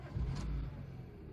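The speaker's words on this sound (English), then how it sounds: "Let's start her up." A 2009 Proton Savvy 1.2 engine starting, a brief low rumbling crank and catch that settles into a steady idle, close and loud with no talk.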